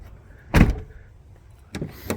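The rear bench seat of a 1998 Toyota Land Cruiser Prado folds down in the cabin. There is one solid thump, then two shorter clunks near the end, with a quiet background between them.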